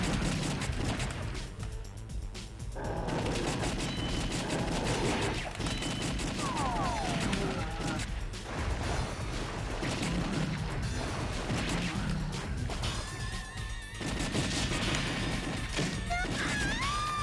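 Repeated gunshots in the arcade shooter The House of the Dead 2 on Dreamcast, sharp bangs and crashes mixed with game effects and music, with occasional talk.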